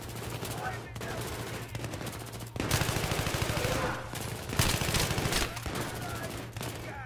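Gunfire in the video game Battlefield 3 comes as loud, dense bursts of automatic rifle fire with overlapping shots and a steady tonal hum beneath, the volume surging midway through the clip.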